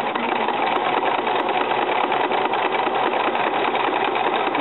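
A sewing machine runs steadily while sewing a zigzag stitch on romper fabric, a continuous close mechanical whir with an even rapid rhythm and no pauses.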